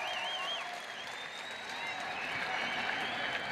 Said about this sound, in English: let's give both these ladies a big round of applause